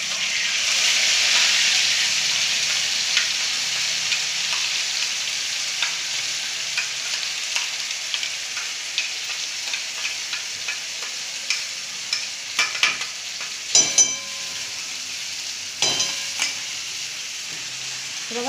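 Ground masala paste fries in hot oil for a Khandeshi-style cowpea curry, with a loud, continuous sizzle that fades gradually while a spoon scrapes and clinks against the pan in short bursts toward the end.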